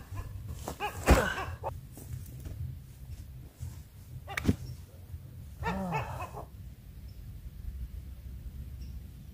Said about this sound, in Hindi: लेकिन ना यहां पर जो डॉग हैं वो भौंक रहे हैं भयंकर